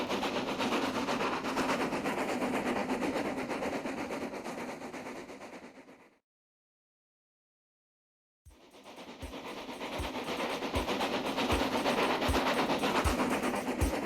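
A big steam engine named Gordon hauls coaches along railway tracks in a steady loud rumble, dropping to a short silence, then returning with rhythmic clickety-clack wheel beats over rail joints.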